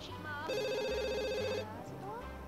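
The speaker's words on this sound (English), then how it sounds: "Johnny, can you answer the phone?" A telephone rings in the video game The Sims 2, one electronic trilling ring burst in the middle over background game music, with a Sims voice babbling around it.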